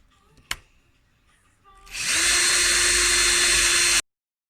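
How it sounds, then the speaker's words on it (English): A power drill bores holes into wood while a bird feeder is built, preceded by a short tap and quiet handling, then a loud steady whine that runs for about two seconds and stops abruptly. "so I'm just going to drill holes in these other two."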